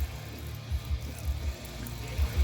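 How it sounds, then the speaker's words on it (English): Water is poured and trickled into a spider's water dish until it overflows, a soft, close splashing and gurgling with low pulsing bursts throughout. "I like to overflow the water dish quite a bit."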